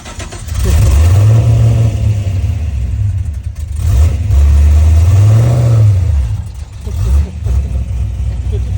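An LS3 V8 swapped into a drift FRS revs hard in loud, close sweeps: two long climbs and falls, then a short blip. The engine drones steadily between pulls.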